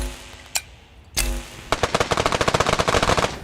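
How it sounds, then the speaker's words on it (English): Bullets fire in Untitled Pixel Simulator, opening with two isolated sharp shots and then a fast, loud stream of rapid-fire bursts in a steady mechanical rhythm. "Can I fire more bullets?"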